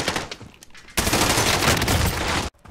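Close, dense gunfire in a Call of Duty Warzone Gulag match: a rapid, loud burst of automatic fire that continues for about a second and a half and then cuts off abruptly.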